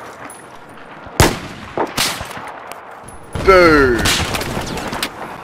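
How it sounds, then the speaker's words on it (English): Gunfire in Battlefield 4 multiplayer, several sharp loud shots cracking out with a longer burst and ringing tail near the end, while a player's voice shouts over it. "pretty sure also I'm being shot at."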